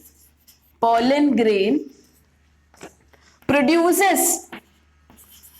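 A pen scratches across paper as notes are written by hand during a biology lesson, a soft scratching heard under and between two bursts of close speech.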